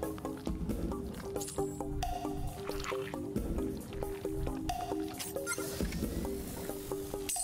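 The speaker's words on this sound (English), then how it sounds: "So the wa it creates a slime waterfall periodically, and you have to avoid that." A slime waterfall in a video game splashes and drips with wet, squishy bursts, layered over a looping game soundtrack and scattered sound effects, fairly continuous at moderate level.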